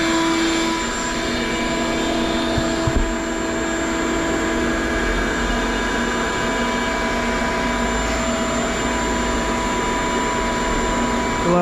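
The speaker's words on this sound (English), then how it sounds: "So turn the vacuum on." A media blaster fed with air at 80 psi runs with its vacuum switched on, giving a steady, loud mechanical drone with a constant whining hum that holds unchanged throughout.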